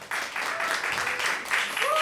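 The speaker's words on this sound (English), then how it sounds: "Please clap for Tareq Rantisi." Audience applause after a presentation at a Berklee continuing-education event, a steady wash of clapping from start to finish with a brief faint tone near the end.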